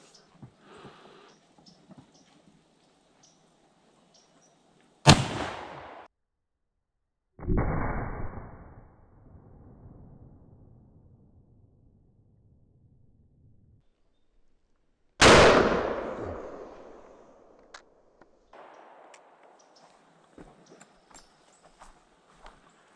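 Two loud, sharp rifle shots from a 50-110 WCF firing 600 grain bullets, spaced about ten seconds apart, each with a long echoing decay, plus a fainter metallic clank between them and light rustling otherwise.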